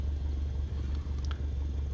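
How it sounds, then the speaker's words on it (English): Cessna 152 engine at throttle idle in a flight simulator, a low, smooth, continuous rumble with a faint steady pulse, close and unbroken for the whole moment. "all you want to hear is a nice smooth running engine"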